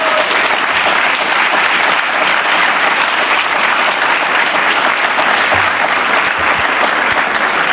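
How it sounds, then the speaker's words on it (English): Loud, sustained applause from a large crowd at a high school celebration ceremony, steady clapping that fills the whole stretch without letting up. "I'd like a round of applause for the wonderful teachers at Strongsville High School"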